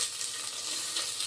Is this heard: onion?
yes